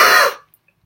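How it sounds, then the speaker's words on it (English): A single sharp, loud cough close to the microphone, lasting a fraction of a second and then cut off into silence. "I'm getting a little cough right now"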